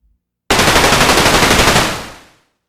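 A full metal and plastic KWC mini UZI 4.5mm CO2 airgun fires one rapid automatic burst of about a dozen sharp, close, even shots, followed by a fading hiss.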